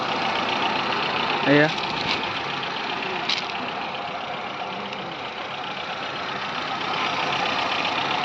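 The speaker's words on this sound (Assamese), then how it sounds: "এই চাওক ইঞ্জিনৰ সাউণ্ড একদম ধুনীয়া হৈ আছে" A Hyundai Santro in good condition idles nearby with a smooth, steady mid-pitched hum. A voice speaks briefly over the engine.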